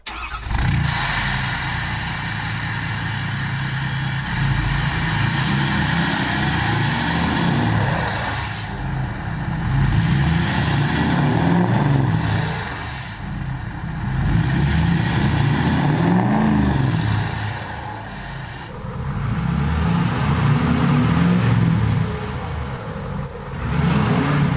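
A dually truck engine in a video game idles loudly and revs repeatedly in several surges, with sharp hissing bursts like air brakes cutting across the rumble. No one speaks.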